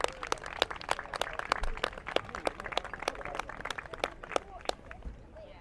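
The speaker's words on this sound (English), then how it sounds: "Round of applause, please" Scattered, moderately loud clapping from an audience at an outdoor fire and rescue display carries on for several seconds, with faint voices underneath.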